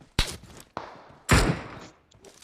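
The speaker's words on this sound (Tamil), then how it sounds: "ப்ரோ அந்த ஸ்னைப்பர் எங்க இருந்து அடிக்கிறான் பாரு" Sniper rifle fire in PUBG Mobile: three sharp booming shots with decaying tails, spaced unevenly, the third loudest, with no talk over them.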